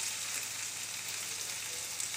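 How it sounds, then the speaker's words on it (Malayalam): Onions, ginger garlic paste, green chillies, coriander leaves and curry leaves sautéing in a hot pan: an even, dense sizzling hiss holds steady throughout, close and continuous, with no stirring strokes standing out and no speech. "2 പച്ചമുളക്, മല്ലിയില, കറിവേപ്പില, ഇവയെല്ലാം ഒന്ന് നന്നായിട്ട് വഴറ്റിയെടുക്കാം."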